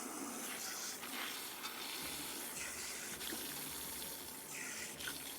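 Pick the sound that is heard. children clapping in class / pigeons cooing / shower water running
shower water running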